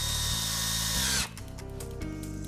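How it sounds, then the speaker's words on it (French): A power drill whines steadily while boring holes into a kitchen wall, then stops abruptly and is followed by softer intermittent mechanical sounds, close and alone without talk. "Alors perce les trous, mets tes chevilles en place et fixe tes crochets."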